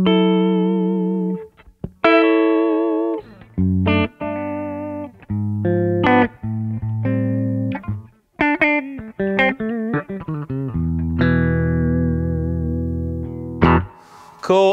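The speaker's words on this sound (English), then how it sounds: "Let's put a bit of touch reverb on for a treat." Electric guitar through a Roland Cube Street EX busking amp on the clean channel with a touch of reverb, chords and picked runs ringing out with short breaks, loud and up close, no talking.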